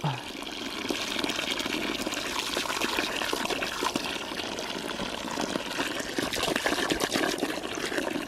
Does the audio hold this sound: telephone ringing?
no